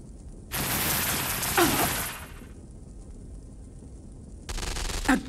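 Bursts of video game gunfire in a firefight at the docks, a loud sustained volley of rapid shots followed later by a second shorter burst, with quieter ambience between.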